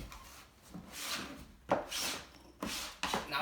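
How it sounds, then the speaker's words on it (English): Ink is scraped across a printing screen in a screen-printing experiment, three or four separate rasping strokes that swell and fade with short pauses between them, close and fairly quiet with no talk. "So we're just kind of like scraping whatever we have on there."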